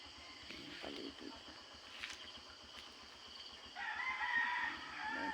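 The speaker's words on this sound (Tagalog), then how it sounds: "Pag umagang ganito, tumitilaak yung mga manok." Roosters crow in the distance in the morning in the rural countryside, with one clearer crow rising near the end, over faint background voices and outdoor ambience.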